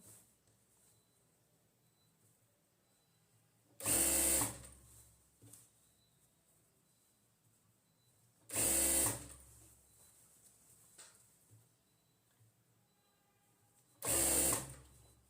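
A sewing machine stitches wide elastic onto a pyjama waistband in three short bursts of about half a second each, separated by quiet pauses with faint handling noise.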